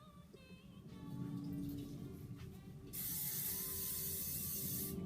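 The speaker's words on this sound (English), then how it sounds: "You need a little hairspray for this dude, for it to hold." Aerosol hairspray sprayed onto a 1940s-style hairdo, a bright close hiss that begins partway through and holds steadily to the end, after faint handling sounds.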